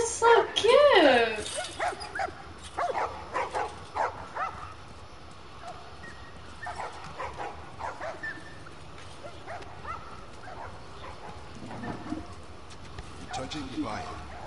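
Dogs bark and yip in The Last of Us, with a loud burst of sharp barks near the start, then scattered quieter yelps further off under a murmur of game ambience and voices.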